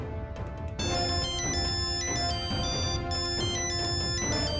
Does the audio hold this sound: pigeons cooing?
no